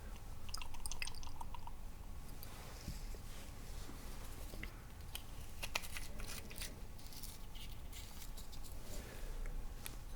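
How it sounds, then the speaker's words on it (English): Small drops of liquid tick and patter into a glass in a quiet fine-dining setting, a scattered series of soft close clicks over a low steady hush. "Just gonna get some drops in here."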